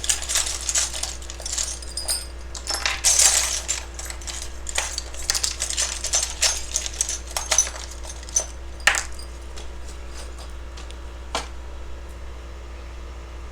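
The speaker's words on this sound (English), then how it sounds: "I just shuffle a few times until I get however many handfuls, and then yeah, just dump them out here" Handfuls of small charms and rune stones clatter as they are shuffled and dumped out, a dense run of bright clinks and rattles over several seconds with a few sharper single knocks near the end, fairly close.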